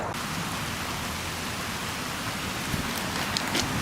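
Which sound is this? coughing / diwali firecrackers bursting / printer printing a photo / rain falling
rain falling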